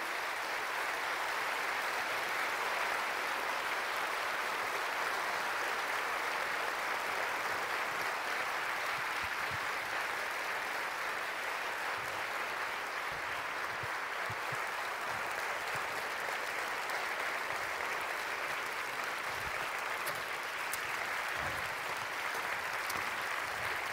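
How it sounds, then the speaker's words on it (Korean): Sustained audience applause welcoming teachers onto a stage at a prayer gathering, steady dense clapping from a large crowd lasting throughout, loud and unbroken with no voices over it. "우리 박수로 한번 모셔보도록 하겠습니다"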